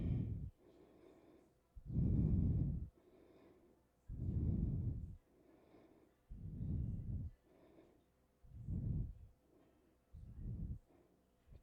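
Slow, deep breathing during a yoga practice: roughly six long inhales and exhales alternate in an even rhythm. Each breath is close, airy and fairly loud, with quieter pauses between breaths and no talking.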